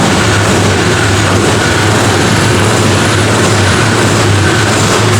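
Very loud, constant scooter engine roar with a harsh grinding drone from severe dragging, close and unbroken, no voices.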